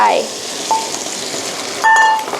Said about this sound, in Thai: ก็คั่วกับกุ้งเลย ล้ายๆไข่ผัดกุ้งอะไรประมาณนั้น